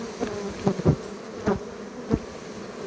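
Honeybees buzzing close up while being swept off queen cells at a queen-rearing apiary, a steady drone with several soft brushing thumps, no talking.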